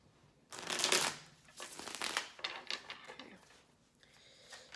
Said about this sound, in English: I'm just going to do one quick big shuffle.